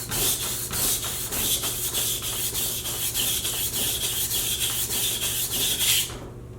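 A knife blade is sharpened with forward strokes on a stone to raise a burr at the heel, giving a steady rhythmic series of gritty rasping swipes, close and even, about three per second, then stopping.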